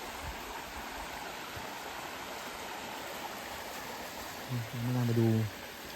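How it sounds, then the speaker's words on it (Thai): River water flows steadily through a forest setting, a continuous broadband rush like a stream, with a voice speaking briefly near the end over it. "ก่อนได้แม่นางมีแม่น้ำสวยมากแม่นาง"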